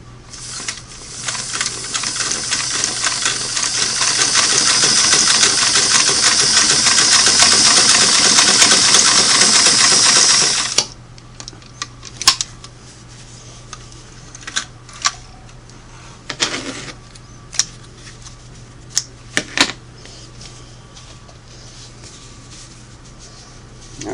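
A Singer Model 338 sewing machine runs steadily for about ten seconds stitching a double-needle zigzag, a loud rapid whirring hum, then stops, leaving scattered clicks and handling taps.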